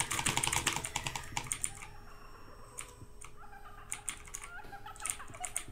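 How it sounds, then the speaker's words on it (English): A computer keyboard is hammered during a Roblox Doors game, with a rapid burst of loud clattering keystrokes up front, then scattered clicks and short flurries of keys, close and without speech. "I just smashed my keyboard."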